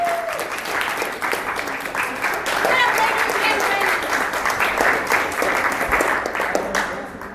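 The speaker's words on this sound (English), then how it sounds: "Can we have a round of applause for Alan?" A small group gives a round of applause during a summer work-program presentation, steady clapping that builds and holds for several seconds, with voices talking faintly underneath.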